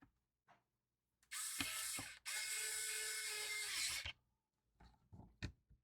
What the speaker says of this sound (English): Just until you hear a couple clicks or one click, line up the thread.